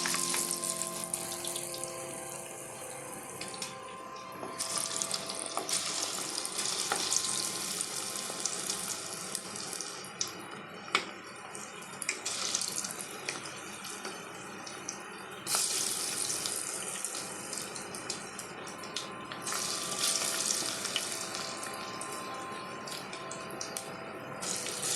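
Small drops of kunukku batter fry in hot oil, a steady crackling sizzle that stays close and fairly loud throughout, swelling and easing as more drops go in.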